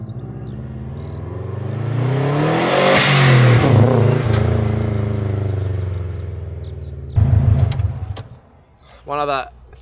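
A Subaru Forester wagon drives and its engine revs, the note climbing and then settling into a steady hum before a louder, rougher stretch near the end; a voice is heard briefly.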